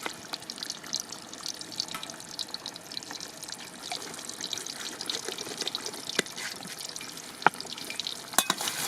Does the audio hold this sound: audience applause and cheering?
no